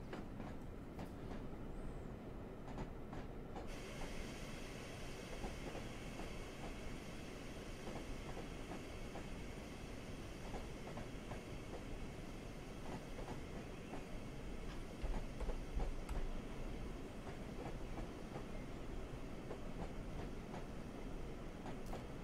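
An AI-driven train crosses a bridge on the GAD West of England Mainline in Train Simulator, a steady rumbling rail roll with faint wheel clatter that holds for the whole stretch and swells briefly near the end.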